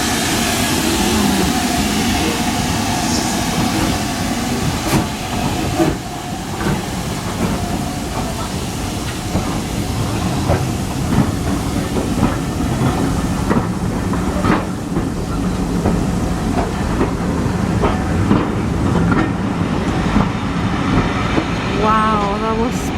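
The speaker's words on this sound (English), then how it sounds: "We were so lucky that the steam train came." A steam train passes near Goathland on the North York Moors, a loud continuous rumble and clatter of wheels that holds steady throughout, with faint hiss and rail squeal toward the end.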